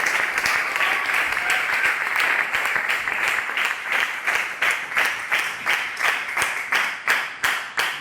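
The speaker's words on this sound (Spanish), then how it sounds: "Yo le doy un aplauso al Señor." A church congregation applauds steadily, dense clapping that turns into a rhythmic, unison beat toward the end, loud and close with no talk over it.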